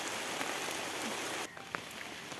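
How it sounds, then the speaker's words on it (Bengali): Steady rain falls outdoors in a village, a continuous even hiss of drops on surfaces that softens slightly partway through, with a single sharper drip standing out. "এখনও রিমঝিম করে বৃষ্টি পড়তেই আছে"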